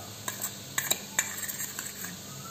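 A spoon stirs spices into egg biryani in a pot, making a run of soft scraping clinks and taps against metal over a faint sizzle, with no voices.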